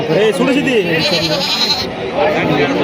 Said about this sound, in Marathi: शेळी दिसते आपल्याला